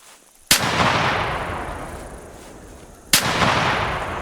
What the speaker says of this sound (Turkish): Evet onu da vurdum. Bana bir, bir mermi harcattı ama olsun.